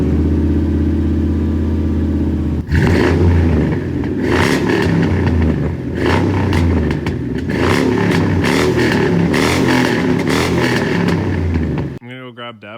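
A 1996 Chevy Silverado with a true dual catback exhaust and Flo Pro Super V mufflers idles with a deep burble, then revs repeatedly in loud, close bursts of throaty roar.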